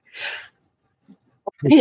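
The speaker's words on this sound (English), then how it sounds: "I usually sneeze in twos." Someone sits at work on an art quilt and lets out a sharp breathy sneeze, then after a short hush an inhale and a second, voiced sneeze close by.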